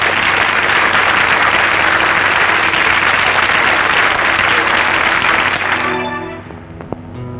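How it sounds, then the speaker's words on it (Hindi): A crowd's dense, loud applause fills a principal's farewell gathering, holding steady for several seconds before tapering off, with a few scattered claps at the end. "चलो ताली बजाओ भाई"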